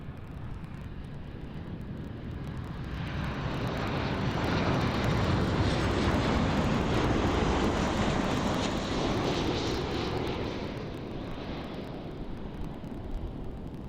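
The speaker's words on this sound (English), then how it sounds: "And here is the Transavia 737" A Transavia Boeing 737 jet roars past at Amsterdam airport, the engine noise swelling to a broad loud peak midway and then slowly easing off as it moves away.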